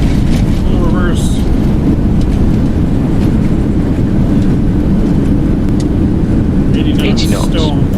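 A Boeing 737NG in X-Plane 11 roars in full reverse thrust during landing as a loud, continuous low engine rumble with wind noise, while people talk over it.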